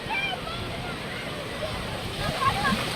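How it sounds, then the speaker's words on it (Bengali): Sea waves washing up on the beach at Digha, a steady broad surf wash with wind, heard close with faint voices in the background. "ঢেউ আসছে"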